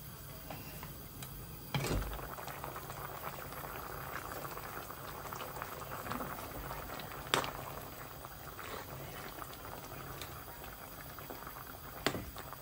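Pot of black beans with oxtail, courgette and spinach boiling, a steady soft bubbling and simmering hiss throughout, with a few louder pops and clicks.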